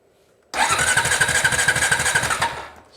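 Honda TRX350 Rancher ATV engine with a no-spark fault cranks over on the starter for about two seconds, a loud steady churning with rapid regular compression pulses that stops abruptly without firing.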